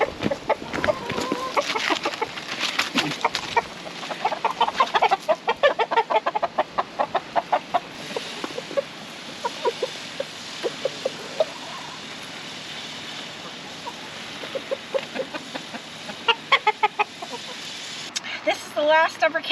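Chickens on a remote Alaskan island farm cluck and squawk in bursts, close by and busy, while a person talks over them at times.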